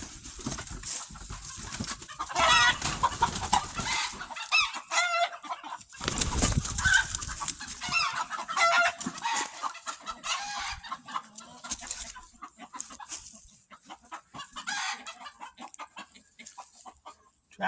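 An agitated rooster clucks and squawks in bursts with short crowing calls, close by, while a person's voice talks over parts of it.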